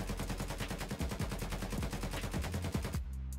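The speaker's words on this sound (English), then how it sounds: "I'm not going to control the recoil, we just let it fly." A submachine gun in Escape from Tarkov fires on full auto with uncontrolled recoil: a close, steady, rapid stream of shots lasting about three seconds before stopping, no talk.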